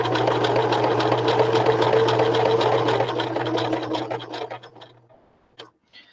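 A sewing machine runs a straight stitch through fabric in one steady, loud, close burst with a constant hum under the rapid needle ticking, then slows and stops, followed by a couple of faint clicks.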